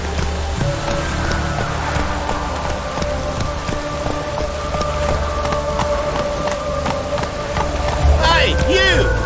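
Steady heavy rain patters continuously on surfaces, with voices and a brief wavering tone near the end.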